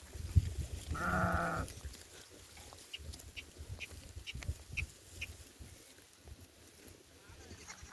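A single sheep grazing on green grass bleats once, close and loud, followed by quieter outdoor sounds with faint clicks and rustling.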